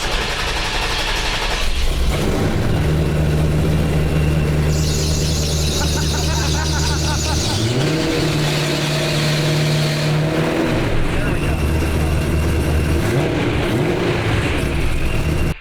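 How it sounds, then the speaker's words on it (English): Race car engine idling after sitting cold for weeks, with a loud persistent belt squeal riding over the low rumble of the exhaust, which swells briefly with throttle blips midway; no talking. "So I think the squeak is louder than the exhaust."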